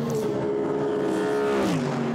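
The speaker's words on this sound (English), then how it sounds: "Glorious noise from the Mercedes as it howls its way down towards the chicane" A Mercedes GT race car howls down toward the chicane in free practice at Paul Ricard, 2017. Its sustained, loud engine note holds steady, then drops in pitch near the end.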